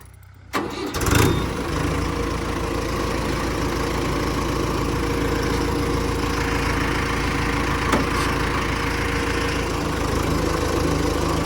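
A Mahindra Arjun 605 DI MS 4WD tractor cranks and fires up, then settles into a steady, loud, close diesel idle with a constant throbbing rumble.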